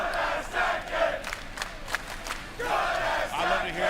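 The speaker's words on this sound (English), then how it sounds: "the crowd is letting you know what we're seeing here" A tournament crowd at a Combo Breaker fighting-game watch party cheers and shouts in loud, surging waves, with a lull in the middle before the roar builds again.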